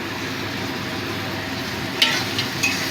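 Tomatoes go into onions frying in a pan for masoor dal, a steady close sizzle with two brief sharper spits near the end.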